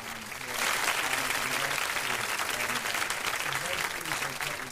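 Loud studio applause from a radio show audience welcoming a guest, a steady dense clapping that swells in after a brief moment and holds for several seconds, with voices faintly mixed underneath.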